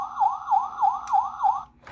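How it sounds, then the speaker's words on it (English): A Transformers Hardhead toy's electronic siren wails in five quick rising-and-falling cycles, loud and close, then cuts off with a brief click. "and for the sirens, as you already saw"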